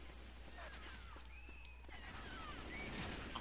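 Rapid gunfire in Left 4 Dead 2 as players shoot at the Witch, bursts of shots over a low rumbling game background with sharp screeching tones, fairly faint and busy throughout.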